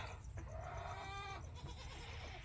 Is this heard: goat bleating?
yes